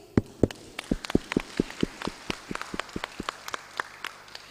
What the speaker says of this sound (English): once more, applause for the participants, please